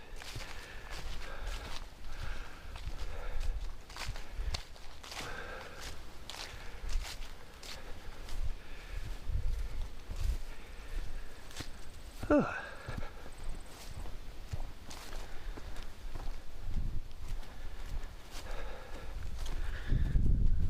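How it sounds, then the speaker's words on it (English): Hooves clop steadily on a trail as horses walk past at a moderate distance in Maplewood State Park, Minnesota, in October, with faint outdoor background noise throughout. "Encountered a lot of very nice horse hikers."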